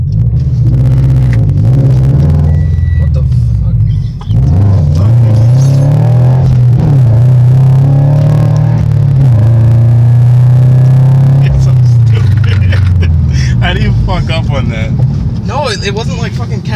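Toyota BRZ or Celica GTS engine revving hard from inside the cabin at full throttle, a loud sustained drone with a brief break partway through, while people talk over it.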